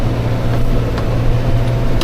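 A New Holland T5.140 tractor engine runs at about 2000 rpm while working soft soil, a loud, steady low drone with a constant hum and no break, heard close up.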